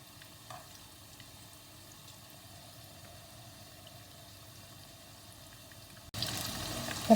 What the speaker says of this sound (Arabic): تو باش نبدا نقلي